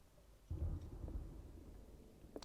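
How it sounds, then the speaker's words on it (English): A low roll of thunder in the Call of Cthulhu horror video game, rising suddenly and rumbling on in the distance with a faint hiss of rain beneath, with no voices. "Ooh, thunder. It's getting creepy."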